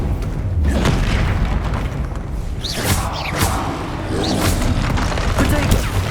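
Confringo fire spell blasting in the Hogwarts Legacy PC game: repeated heavy booms and whooshing magical bursts in loud, continuous combat.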